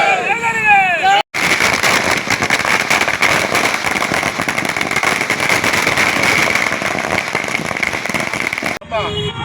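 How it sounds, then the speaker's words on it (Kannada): A long, dense string of firecrackers bursts in rapid, continuous crackling pops, loud and close, with brief voices just before and after, at a by-election victory celebration by Congress party workers in Bhatkal. "ಪಟಾಕಿ ಸಿಡಿಸಿ ಸಂಭ್ರಮಾಚರಣೆಯನ್ನು ಮಾಡಿದರು"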